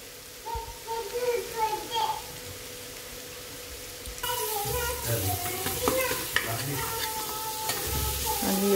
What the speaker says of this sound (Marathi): लसणाची पेस्ट थोडी शिजवून घेऊया आपण